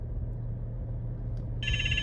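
A mobile phone begins ringing with a bright electronic tone partway through, following a stretch of quiet room noise with a low steady hum and no one speaking.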